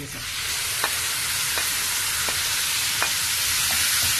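Steady sizzling of ground cucumber chutney frying in tempered hot oil, a continuous close hiss with a few soft stirring taps.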